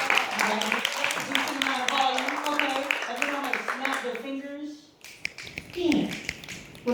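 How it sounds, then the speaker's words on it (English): An audience at a poetry event claps in quick, scattered taps under a speaking voice, the clapping continuing throughout as the talk carries on above it. "You show me you know how to clap."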